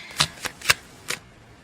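Tarot cards being shuffled in short bursts, four quick riffling flicks close up, with quiet pauses between them.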